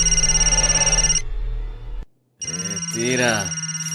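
A telephone rings with a loud, pulsing electronic warble, cuts out briefly and starts ringing again, with a voice briefly over the second burst in an indoor film scene.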